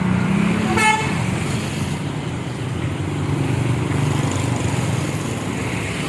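A large bus rumbles past on a road in Pabuaran, Indonesia, with a low engine drone and a short horn toot near the start, then fades into steady road noise.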